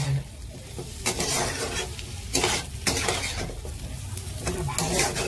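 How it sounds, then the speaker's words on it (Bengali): Potatoes dusted with chili powder are stirred and fried in a pan, with repeated scraping stir strokes over a steady, close sizzle and occasional clinks of the utensil against the pan. "এবার ভালো করে নেড়ে নিতে হবে।"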